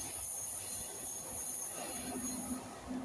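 A Class 450 electric train moves through Farnborough station at moderate distance, with rolling wheel noise, a high steady whine and a brief wheel squeal near the end.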